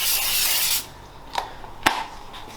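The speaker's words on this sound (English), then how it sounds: "So just a little spray of oil in the pan." Cooking oil hisses in a steady spray for under a second into a warm pan set for cooking an omelette, followed by quiet handling clatter and a couple of sharp taps.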